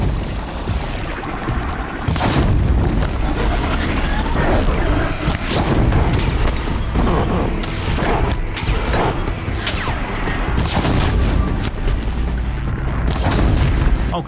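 Loud, continuous booms and crashing blasts from a fire attack in the game Horizon Zero Dawn, with dense explosive bursts and impacts layered over each other for the whole stretch.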